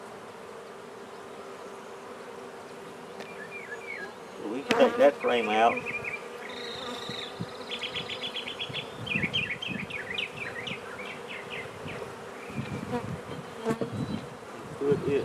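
A honey bee swarm being moved into an eight-frame hive drones on steadily close by, while someone speaks briefly and frames and gear clatter and knock around the middle of the stretch.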